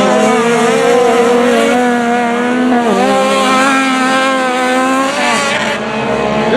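Race cars roar around a dirt speedway track at Joes Speedway, with loud, sustained high-revving engine tones rising and falling as they power through the laps.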